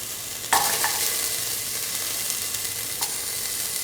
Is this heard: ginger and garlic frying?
yes